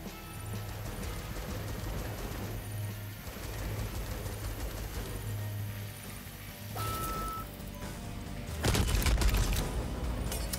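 Turrets in a video game firing at enemies, a dense fusillade of rapid shots with a louder burst of crashing impacts near the end, all layered over game ambience.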